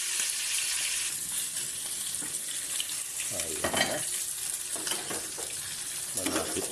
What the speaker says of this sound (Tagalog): Dito rin po ay tinutuloy natin yung pagprito ng ating kurilaw.